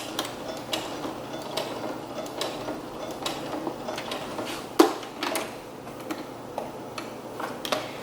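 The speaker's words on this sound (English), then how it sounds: "now we're gonna sew the straight edge down" A sewing machine stitches a straight edge on sequined fabric for a prom dress, ticking in a quick, steady run of small mechanical clicks with a sharper knock midway; quiet and close, no voices.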